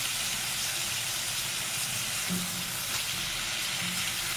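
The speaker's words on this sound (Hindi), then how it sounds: "मसाले के साथ हमारी चिकन को पकते गए" Chicken cooks in spice masala in a karahi, giving a steady close sizzle and hiss with faint bubbling and the occasional soft stir, with no voices.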